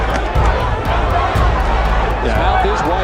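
A boxing crowd cheers in support of the fighter Mercer during a bout against Tommy Morrison, a dense, continuous roar of arena noise heard at a distance beneath a commentator talking throughout.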